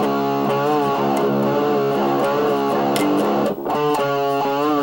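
Distorted electric guitar plays an intro riff, a steady run of bending, wavering chords and picked notes, loud and close, with one brief dropout near the end.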